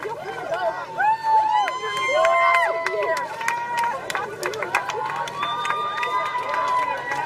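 A crowd of anti-Trump protesters moving along a street, dense and close with many voices shouting and chanting over shuffling, running footsteps and general hubbub.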